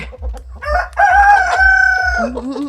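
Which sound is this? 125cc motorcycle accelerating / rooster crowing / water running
rooster crowing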